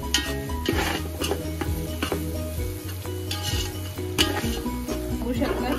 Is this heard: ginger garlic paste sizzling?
yes